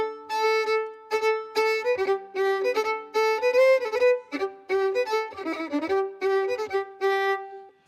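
Fiddle playing a lively Strathspey tune full of Scotch snaps, with quick short-long note pairs and bowed accents over a steady pulse; solo, close and bright, with no talking.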